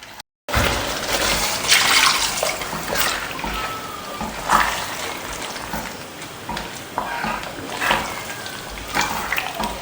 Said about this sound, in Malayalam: മിക്സിയുടെ ജാറ് കഴുകിയിട്ട് അങ്ങോട്ട് ഒഴിച്ചു കൊടുത്താൽ മതി